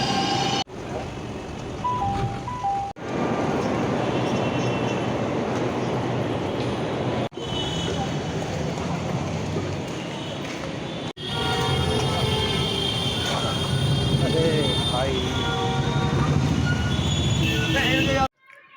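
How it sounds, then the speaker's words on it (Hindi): A Delhi metro train arriving at a station: a steady, loud rumble with faint metallic squeal runs almost without a break, cut by a few brief dips and ending abruptly. "नेक्स्ट मेट्रो आ गई"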